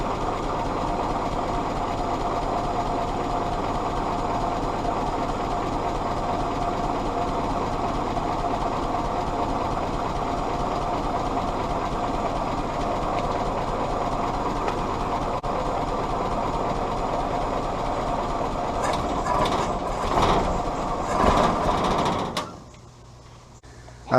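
A Willys CJ2a Jeep's L134 four-cylinder runs steadily, a close, constant mechanical drone with a knocking rumble for about twenty seconds before it cuts off abruptly near the end.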